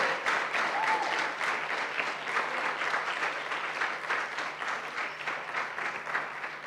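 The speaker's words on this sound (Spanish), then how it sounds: "Si le va a dar un aplauso, hágalo con gana a Él" Congregation applauding in a church, a dense, steady clapping that continues evenly from start to finish.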